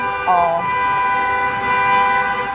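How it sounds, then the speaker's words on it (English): Vehicle horn honking outside, a sustained tonal blare with a brief wavering at the start, steady and fairly loud, with faint background noise and no talking over it. "why do they honk over there? It's so annoying."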